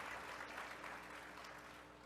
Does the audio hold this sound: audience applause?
yes